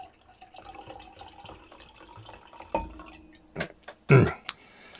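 Chianti wine, Santa Margherita 2015 from Italy, poured into a glass: a faint trickle and dripping that swells into a louder gurgling splash near the end.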